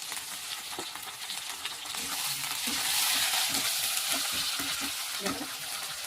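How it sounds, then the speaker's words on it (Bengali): Tomato and green chillies frying in a pan, a loud hissing sizzle that swells as the pieces hit the oil, with repeated spatula scrapes and taps stirring them. "তো আমি এখন টমেটো আর কাঁচা লঙ্কা ফাটানো দিয়ে দিচ্ছি"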